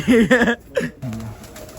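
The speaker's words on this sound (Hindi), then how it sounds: "ये कबूतर निकाल रहे हैं साहब" A few throaty pigeon coos sound close and loud, two quick calls followed by a softer, lower murmur, with no talk over them.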